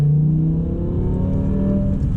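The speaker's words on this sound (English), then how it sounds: "Wow, that exhaust sounds amazing." A BMW M6 with a V10 engine and manual transmission is driven, its exhaust giving a loud, continuous revving note that climbs steadily in pitch as it accelerates, with no talk.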